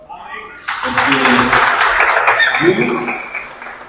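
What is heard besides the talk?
church congregation applauding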